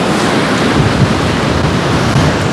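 Stormy winter sea waves surging against the beach at Anapa, a loud continuous roar of surf mixed with gusting wind buffeting the microphone, with no voices.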